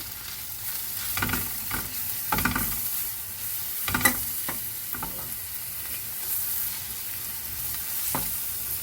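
A spoon stirring green chillies and other ingredients frying in a pan for a Malabar puttu-kutti biriyani, with a soft continuous sizzle broken by several scraping stirs, close up and with no talking.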